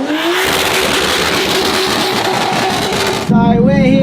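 Race cars blast past at close range during a Race Wars drag event, a loud sustained engine roar with rising pitch, ending in a sharp shift to a nearer, rougher exhaust burble.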